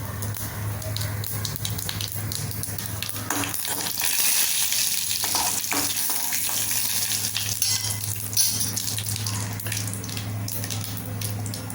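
Mustard seeds, fenugreek and cumin tempering in hot oil for tiffin sambar: a continuous close sizzle with a faint steady hum beneath and a few sharper crackles as the seeds pop.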